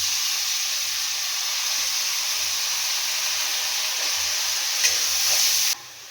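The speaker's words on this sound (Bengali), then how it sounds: "দেখো এই যে পেঁয়াজ আর টমেটোটা আমি ভেজে নিচ্ছি।" Onion and tomato frying in a pan make a steady, close sizzle with a bright hiss throughout, plus occasional low stirring knocks. The sizzle cuts off sharply near the end.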